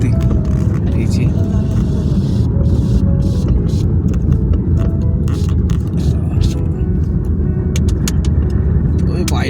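Heard from inside, a car drives up a snowy mountain road on an Arunachal Pradesh pass. A loud, steady engine and road rumble runs throughout, with faint ticks and clicks on top.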